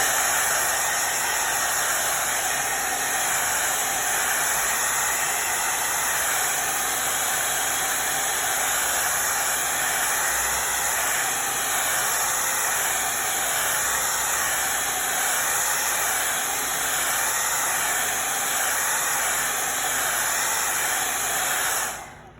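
Hair dryer blowing on wet orange paint, a continuous loud whooshing hiss running steadily throughout and cutting off at the very end.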